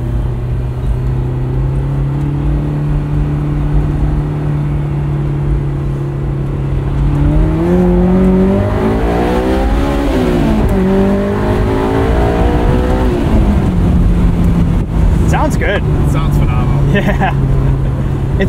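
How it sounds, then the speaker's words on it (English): A 2001 Honda S2000 roadster with the top off drones steadily, then its engine revs up and back down, its intake and exhaust loud and close from inside the car. "It's that perfect balance of intake, induction sound, and exhaust."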